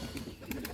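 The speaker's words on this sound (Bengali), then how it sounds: "দেখুন এই জায়গায় বসে বোম্বাই কবুতরে ডাকতেছে" Bombay pigeons call from their perch with a brief burst of soft, low cooing. The sound is faint and quickly over.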